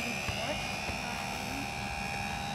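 HobbyZone Super Cub S RC airplane flying low overhead outdoors, its steady electric motor whine droning loudly and continuously, with excited voices of onlookers heard over it.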